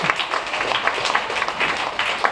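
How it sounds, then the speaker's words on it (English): Audience applause for Thailand at a women-in-the-workplace talk, a steady dense wash of clapping that holds evenly for a couple of seconds with no voices over it. "give a round of applause to Thailand"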